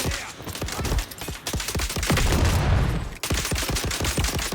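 Rapid gunfire from the third-person shooter video game Dune Awakening, with sharp repeated shots in fast bursts and a dense roaring stretch of fire midway, loud and close with no talking.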